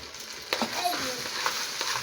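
Rice fries in ghee and oil in a pot with a soft, steady sizzle, while a spoon stirs now and then and makes brief scraping clinks, all close and fairly quiet.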